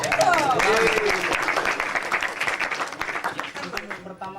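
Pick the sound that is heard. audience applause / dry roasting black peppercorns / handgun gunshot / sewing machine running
audience applause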